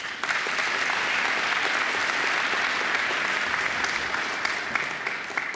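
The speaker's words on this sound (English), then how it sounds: "I think she deserves another great round of applause." An audience at a university graduation ceremony claps for the singer, a dense, sustained round of applause from a large seated crowd, heard at moderate distance.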